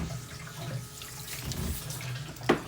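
Tap water runs steadily while locs are rinsed during a hair wash, a continuous close splashing hiss with a brief louder splash near the end and no talking.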